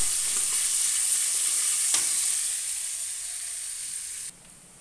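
Chopped onions fry in a pan, a loud, continuous hiss and sizzle close by, with a brief stir and the sound easing before dropping away near the end.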